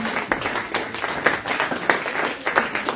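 A church congregation claps and applauds together, a steady stream of hand claps with rhythmic louder bursts, close and lively, with faint voices mixed in.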